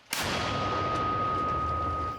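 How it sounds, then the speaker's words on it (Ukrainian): A single loud gunshot cracks sharply in a forest during frontline combat, followed by a long rumbling echo that fades slowly. "Постріл!"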